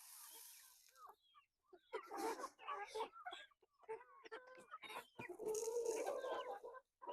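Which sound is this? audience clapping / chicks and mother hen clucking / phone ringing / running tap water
chicks and mother hen clucking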